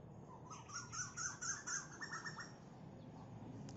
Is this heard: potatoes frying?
no